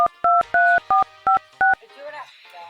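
Touch-tone telephone dialing: six loud, evenly spaced dual-tone key beeps in quick succession, followed by faint background talk and noise.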